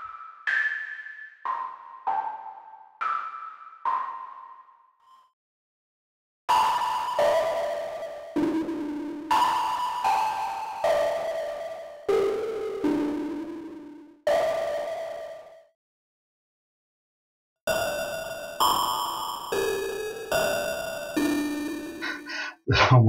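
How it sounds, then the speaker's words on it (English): A Wusik Station software synth plays a run of bright, resonant notes with a high filter setting. The notes are short and plucky with ringing overtones, come in separate bursts with gaps of silence, and end in rapid chiming arpeggios. "So if I play very high frequency here with very high resonance."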